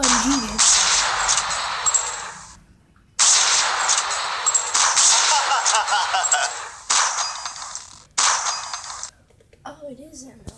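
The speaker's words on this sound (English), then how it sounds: "Oh, it is an LMG." Light machine gun fire in GTA Online, coming as long, loud, sustained bursts separated by short pauses, with a voice briefly audible at the start and end.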